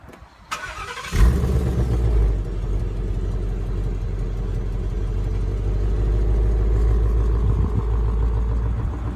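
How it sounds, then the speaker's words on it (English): A 2016 Ford Mustang GT V8, base model with automatic transmission, starts by remote: a short crank and a deep roar as the engine fires, then a low, steady rumbling idle close by. "Now, to remote start the car, hit the lock button once"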